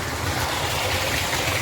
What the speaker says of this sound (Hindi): और ये पानी जा रहा है इसमें खेत में इधर को।